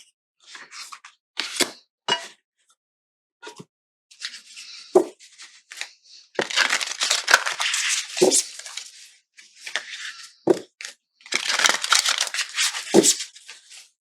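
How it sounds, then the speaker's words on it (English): A deck of Hay House oracle cards is side-shuffled in several quick papery bursts of riffling and slapping, with short pauses between them and two longer, denser flurries near the end. "let me do the side shuffle"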